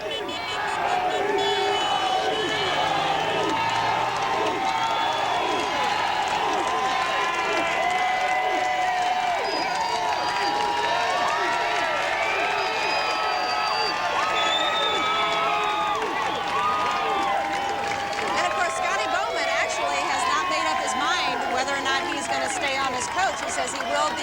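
A large outdoor crowd cheers and applauds at the 1997 Detroit Red Wings Stanley Cup victory parade, a continuous roar of clapping, shouts and chatter, with voices talking over it throughout.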